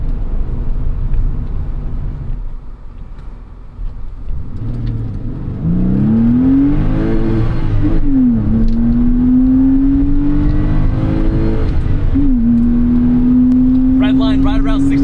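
Air-cooled Porsche 911 (993 generation) Carrera S flat-six, about 300 horsepower, revs up from idle in rising and falling pulls toward its 6,800 RPM redline, loud and close, with a steady rumble underneath.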